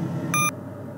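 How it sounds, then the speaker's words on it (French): A short electronic beep, a clear pure tone lasting under a fifth of a second, sounds over loud steady engine rumble just before a noise cancellation system switches on in a vehicle cabin. "après le bip,"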